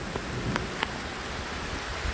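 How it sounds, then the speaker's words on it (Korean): Heavy autumn rain pouring down in a sudden shower, a continuous close hiss of rain striking surfaces with a few sharper drips and taps standing out, no voices. "비가 엄청 많이 와요."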